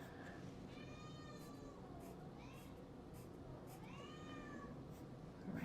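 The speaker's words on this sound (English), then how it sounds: "my kitty's back at my door making lots of noise" A pet cat meows at a closed door, two drawn-out rising-falling cries over steady low room noise, moderately distant and faint.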